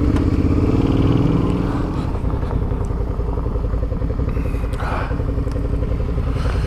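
A big adventure motorcycle riding off-road on dirt, its engine pulsing loud and close with steady throttle while loose ground clatters and scrapes beneath the tyres.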